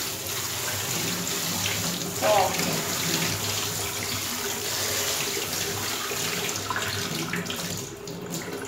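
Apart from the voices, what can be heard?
cold tap water poured over zucchini to drain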